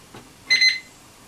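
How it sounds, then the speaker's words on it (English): Kitchen timer going off while onions saute for a tuna casserole, a short loud electronic beep of about a quarter second, close by, with a faint clatter just before. "the timer's gone off, said it's enough sauteing"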